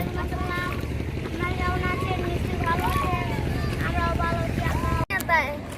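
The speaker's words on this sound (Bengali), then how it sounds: "নদীর মাঝখানে আছি, নৌকা দিয়ে একটু ঘুরতেছি।" A steady motorboat engine hum drones on in the middle of a river, with voices and bursts of chatter heard throughout.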